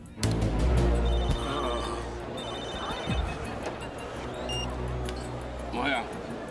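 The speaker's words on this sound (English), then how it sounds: "Phone." A telephone rings in a thriller action movie scene, a thin repeated electronic tone sitting under a dense, busy background of rumble and scene noise.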